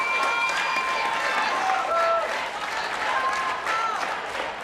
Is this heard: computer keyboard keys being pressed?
no